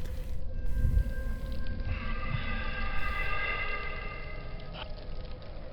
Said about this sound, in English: I hear portal noises.